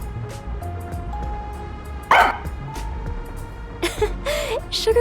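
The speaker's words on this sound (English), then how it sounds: "She barks at me all the time." A dog barks in the video game Master Detective Archives: Rain Code, with a few short yips and whimpers near the middle and end over steady background game music.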